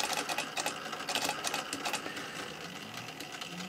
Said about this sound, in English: it accelerates the stepper motor and then slows the stepper motor down